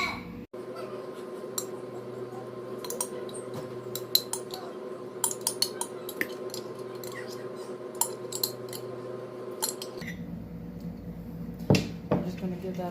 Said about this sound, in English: I'm just going to give that a good stir.